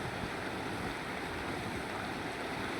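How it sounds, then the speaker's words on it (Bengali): Rainwater after a night of heavy downpour rushes into a river in a steady, dense roar of flowing water, loud and continuous throughout with no voices. "এই জলগুলো সব নদীতে নামছে।"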